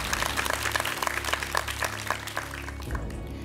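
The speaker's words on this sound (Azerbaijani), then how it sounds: "Fidan Hüseynovanı biz alqışlayırıq ürəkdən." A studio audience at a quiz show applauds a winner, steady close clapping from many hands over a low background hum, with no talking.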